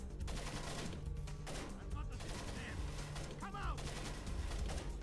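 Bursts of automatic gunfire from the Splinter Cell video game rattle in quick succession, layered with game effects and a player speaking over the shooting.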